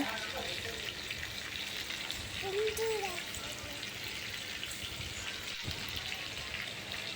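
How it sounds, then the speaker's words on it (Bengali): Fish sizzles steadily in a hot pan in a Bangladeshi home kitchen, a dense, even crackle of oil that holds at close range for the whole stretch, with a faint murmur of voice briefly underneath. "তো মাছটা আমি ভালো করে ভেজে নিব।"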